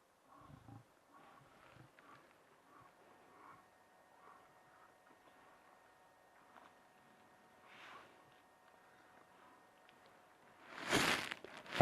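Lions roaring during a live African safari, heard as distant low grunting calls and rumbles across a quiet background, building to a louder, closer burst near the end.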